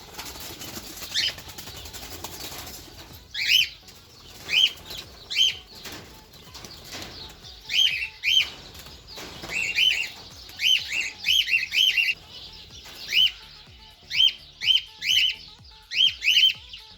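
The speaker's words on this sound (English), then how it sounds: "they'll fly into the aviary" Repeated bursts of wing flapping as parrots take off and fly close by into an aviary, mixed with sharp chirps and squawks, coming in quick clusters.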